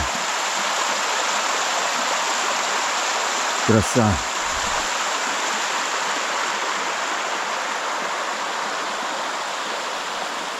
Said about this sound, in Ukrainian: Гірська річка.